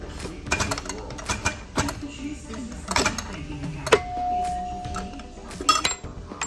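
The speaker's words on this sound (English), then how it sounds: "we got it set in the press with our bolts. We got a little red. We'll see if we can't press her off" A shop press forces a pulley off a Chris Craft D05 marine water pump, giving close, scattered metallic clicks, taps and creaks, with one brief thin squeal midway.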